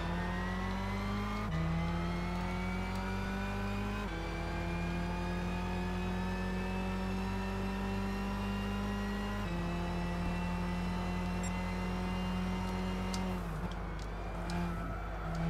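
Race car engines roar in Gran Turismo 6 at Suzuka Circuit, a loud sustained whine that climbs in pitch, drops at each gear shift and climbs again.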